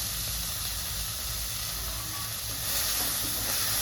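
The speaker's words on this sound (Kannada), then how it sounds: "ಫಸ್ಟು ಮೆಂತ್ಯ ಸೊಪ್ಪು ಹಾಕಿ ಮೆಂತ್ಯ ಸೊಪ್ಪು ಎಣ್ಣೆಯಲ್ಲಿ ಬೇಯಬೇಕು ಸ್ವಲ್ಪ" Fenugreek leaves fry in hot oil after green chillies have gone into the pan, producing a steady, dense hiss and sizzle that swells slightly toward the end.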